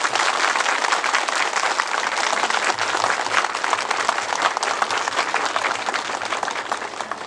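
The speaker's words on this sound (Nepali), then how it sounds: "तपाईहरु सबैलाई जोरदार रूपले ताली पड्काएर स्वागत गर्न आग्रह गर्दछु" A large audience at a Nepali public function claps loudly and steadily to welcome a guest, a dense, continuous applause with no break for over seven seconds.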